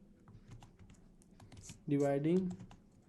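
Soft keyboard typing while writing Go code, with light scattered key clicks at low volume, then a person speaking near the end.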